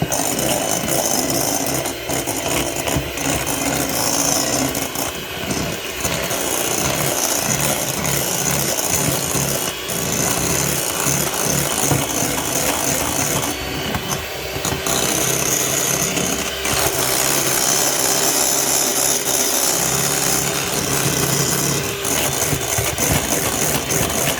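An electric mixer whisks cream for a cheesecake, a loud, continuous motor whir with rattling beaters that runs for over twenty seconds, close up and alone.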